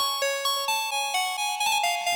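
A bright phonk synth lead with delay and reverb plays a short melodic line of plucked notes, each one echoing and trailing off into a soft reverberant tail, with no voices.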